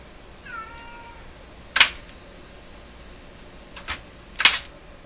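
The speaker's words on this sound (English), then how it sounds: "Because cat is crying." Peanut, a pet cat, lets out a short meow early on, followed by three sharp mechanical clicks and clacks at irregular intervals in an otherwise quiet room.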